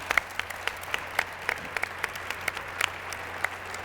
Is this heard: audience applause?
yes